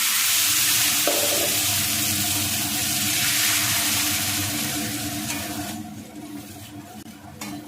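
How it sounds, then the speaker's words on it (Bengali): Spice paste for chicken kosha sizzles and fries in a pan, a loud steady hiss close up that eases off and turns quieter toward the end. "মশলাটা কষতে দিলাম ভালো করে"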